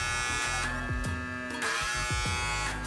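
A PMD Kiss lip plumping device runs at its second speed setting, a loud close electric buzzing motor that pulses in slow, strong suction cycles.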